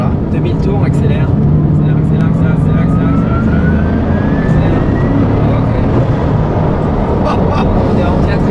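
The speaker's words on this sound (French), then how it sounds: "Accélère. On est en quatrième." A Bugatti Chiron Pur Sport accelerating in fourth gear from about 2000 rpm: a loud, deep engine roar climbing steadily in pitch, with a driver talking over it.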